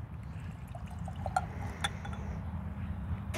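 Legend bourbon pours quietly from a bottle with a synthetic cork into a glass, a faint trickle with a couple of small clinks, with no talk.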